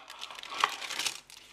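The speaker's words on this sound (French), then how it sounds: "je retire le papier sulfurisé" Parchment paper slides and crinkles as it is handled on a plate while plating warm goat cheese, a soft close rustle with a few sharper crackles, no talking.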